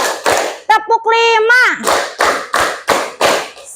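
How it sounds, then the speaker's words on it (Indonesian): Schoolchildren clap in unison during a classroom clapping game, sounding a run of loud, close, evenly spaced claps with a brief sung or voiced passage in the middle. "Kalian harus tepuk sesuai dengan yang Ibu sebutkan"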